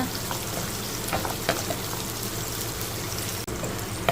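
One large onion with a few curry leaves frying in oil in a kadai, a dense continuous sizzle and crackle with occasional soft stirring knocks and a brief break near the end.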